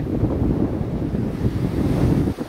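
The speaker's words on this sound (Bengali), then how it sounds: "জাহাজগুলো আছে আর সাগরের উত্তাল ঢেউ।" Rough sea waves surging onto the shore at Patenga beach on a windy, cloudy day, a continuous loud roar of surf with heavy wind buffeting, no voices.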